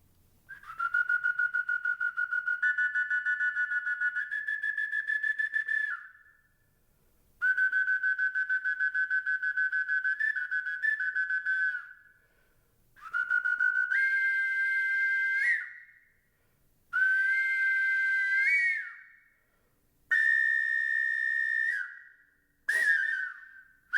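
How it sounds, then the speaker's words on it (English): Shrill, piping tones from a preserved zoomorphic triple flute in several sustained phrases, each held a few seconds with small pitch shifts, separated by short silences. "This is a wonderfully preserved instrument. It's a zoomorphic triple flute."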